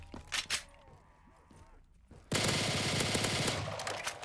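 Rapid automatic gunfire from a weapon in Call of Duty Zombies starts abruptly partway through and continues as a loud, dense burst, after a few quieter game sounds.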